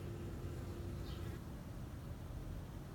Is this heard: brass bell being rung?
no